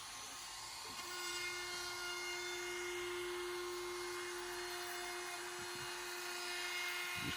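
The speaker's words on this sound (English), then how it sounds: "So just going over the chamfer bit here." A router fitted with a chamfer bit spins up to a steady, loud high whine that holds for several seconds, with brief bursts of cutting as the bit works along the edge of a wooden board.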